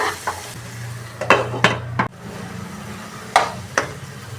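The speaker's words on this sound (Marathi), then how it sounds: "आता आपण जरा परतून घेऊया" Raw mango pickle being stirred in a pan, with a few sharp scraping strokes of a spoon against the metal and a soft sizzle running underneath; the strokes are close and irregular, with no talking.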